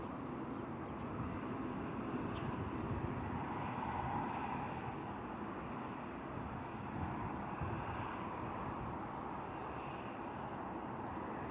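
A Ryanair airliner arriving from Venice at an airport at sunrise, heard as a faint, steady distant jet rumble with some wind on the microphone.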